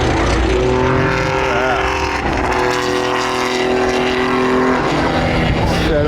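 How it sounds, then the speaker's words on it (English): Porsche 935 race cars at the Le Mans Classic, their engines producing a loud, continuous roar with a sustained high whine that holds for several seconds before easing as they pass close by. "Those things are flying around here, man. Those 935s."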